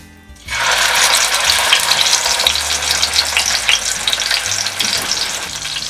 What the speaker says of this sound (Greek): Μόλις κάψει καλά το λάδι θα βάλουμε μέσα το κρέας να το σοτάρουμε.